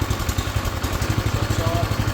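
A Troy-Bilt Horse garden tiller's small engine runs steadily up close, a loud, even chugging rumble with rhythmic clattering pulses that holds throughout.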